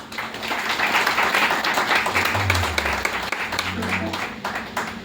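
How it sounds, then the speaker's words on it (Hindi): An audience at a Hindi business seminar claps steadily for about five seconds, a dense continuous applause filling the room with some voices mixed in. "एक बार तालियां बजाओ इनके लिए"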